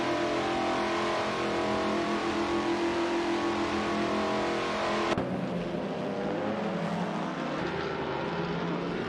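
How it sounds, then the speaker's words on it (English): Engines of 1950s Formula One race cars in a racing simulator game roar steadily and loudly, a dense continuous drone that drops in tone partway through as the sound shifts, with no talking. "We are currently watching a thrilling race in the racing simulator."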